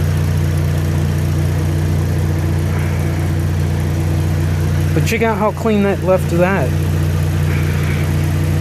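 A Pontiac G8 engine idles with a steady low hum in an open engine bay, continuous throughout, as someone talks briefly partway through.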